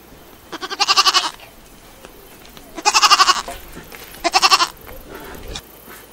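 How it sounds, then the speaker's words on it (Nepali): Hungry goats on a Nepali farm bleating in three loud, wavering calls separated by short pauses, close by with faint background noise and no talk. "बाख्राहरू नि भोकै छन्"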